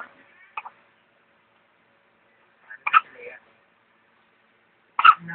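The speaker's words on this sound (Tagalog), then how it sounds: "yung sinok niya, grabe" Three short, sharp hiccups spaced a couple of seconds apart, each a quick voiced catch, with near silence between them and faint murmured talk nearby.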